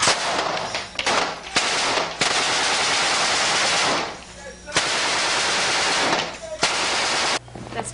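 Loud, close machine gun fire in long sustained bursts separated by brief pauses, a dense rattling roar that dominates the clip.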